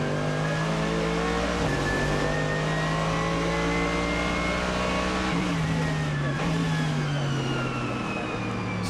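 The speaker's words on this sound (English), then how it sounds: "Here is Maxi Book we're on board with now. It's all getting very busy on the exit of the pit lane." A BMW GT race car engine in ADAC GT Masters racing at Oschersleben, heard onboard at the busy pit lane exit: a loud, steady, high-pitched engine drone with brief shifts in pitch as it accelerates.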